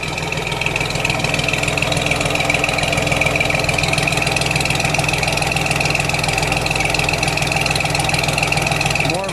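A 1953 Chevrolet Corvette in Polo White idles steadily and close up, its exhaust giving a smooth, even, continuous rumble from start to finish.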